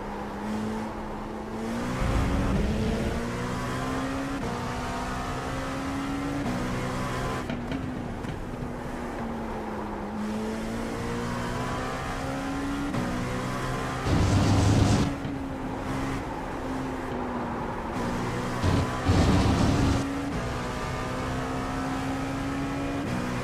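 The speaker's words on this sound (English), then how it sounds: "The curb sound. It's pretty funny." A racing video game car drones along the track with a steady engine note, broken by a few short, rough rattling bursts as it rides over the curbs, with no one talking.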